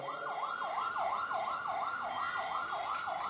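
An ambulance siren wails in a steady rising-and-falling cycle close by, loud and continuous, with faint traffic noise beneath it during a street-side political address in Tamil Nadu; no one speaks over it.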